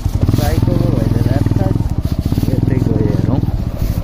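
A 200cc motorcycle engine drones steadily while riding a rough off-road village track in Nepal, a loud close hum with rattling, as riders talk over it.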